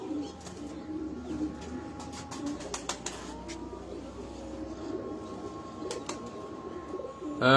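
A pigeon coos in soft, low, repeated calls close by, with clicks and rustling around it and a louder burst of movement at the very end.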